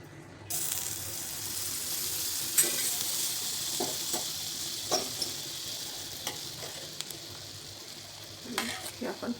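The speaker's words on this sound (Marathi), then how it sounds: "बनवण्यासाठी कढई ठेवलेली, त्यामध्ये घालायचे बटर." Butter sizzling and crackling in a hot kadai while making spinach soup, a steady bright hiss with a few louder clinks of a spoon stirring, close and continuous with no talk.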